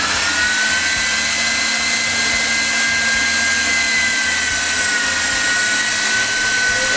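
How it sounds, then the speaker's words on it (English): An electric meat grinder grinds elk meat for jerky in a loud, steady, high-pitched motor whine that holds unbroken throughout, close by and alone. "I'm going to start grinding, and as I'm grinding I'm going to add the salt"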